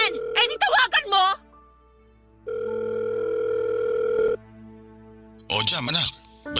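A telephone call is placed in a Filipino drama: a steady dial tone hums for about two seconds between stretches of people talking, heard close and clear.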